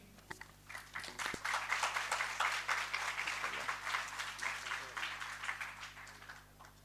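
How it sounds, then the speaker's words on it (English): Students at an engineering college B.Tech orientation applaud a classmate, moderate clapping building over a few seconds then tapering off, somewhat distant with a low background hum. "Give a big round of applause, guys, for Saksham."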